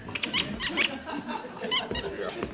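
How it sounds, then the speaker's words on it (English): Short high-pitched squeaks repeat irregularly, close by, over a murmur of background noise, like a chair creaking under shifting weight. "got a bit of a squeaky chair."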